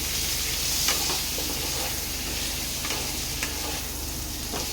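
Raw mango pieces frying in a pan for a sweet mango chutney give a steady, close hiss with a few soft stirring scrapes scattered through it.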